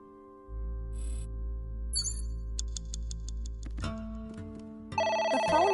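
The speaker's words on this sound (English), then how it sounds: "The phone is ringing." A telephone rings in repeated electronic trills, fairly loud and close, over a low droning hum that drops out before brighter tones take over near the end; no talking.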